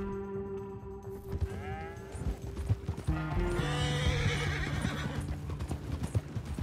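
In Red Dead Redemption 2, a horse's hooves clip-clop steadily and a whinny rises over sustained background tones, fairly close and moderately loud.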